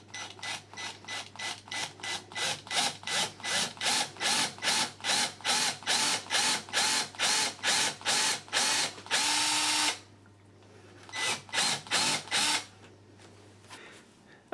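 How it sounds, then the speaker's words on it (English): A power drill bores a small hole in a door for a bolt, whirring in rapid repeated pulses, then running continuously before stopping, followed by a couple more short bursts; close and loud. "We're now just going to drill a smaller hole below that using a drill bit"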